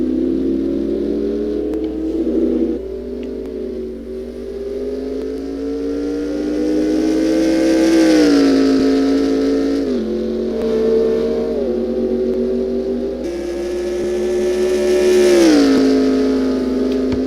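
Formula 1 cars in an F1 racing video game drone close and loud, their engine pitch rising and dropping repeatedly through upshifts and downshifts over a continuous high-revving whine.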